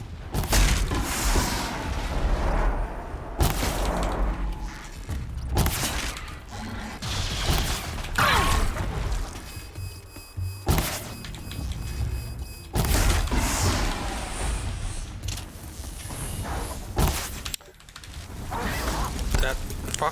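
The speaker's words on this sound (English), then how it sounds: "Explosions in the distance." Distant explosions in Horizon Zero Dawn play out as repeated muffled booms and thuds over a steady, loud game backdrop, with mechanical clanks and creaks between the blasts.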